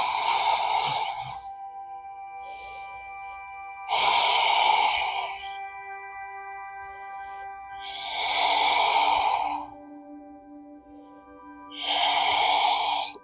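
Slow, deep breaths during a yoga flow rise and fall in four long, even cycles of inhale and exhale, set over soft, sustained background music.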